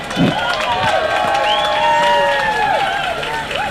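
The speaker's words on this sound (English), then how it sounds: "Give her a big round of applause." A crowd at an outdoor anti-war demonstration cheers and applauds for a speaker, with clapping and whoops mixed under shouting voices, sustained and fairly loud throughout.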